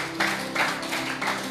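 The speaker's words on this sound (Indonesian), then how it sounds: "Berikan tepuk tangan untuk Tuhan." A congregation applauds during a church sermon, several swells of clapping over a steady musical drone, moderately loud and somewhat distant.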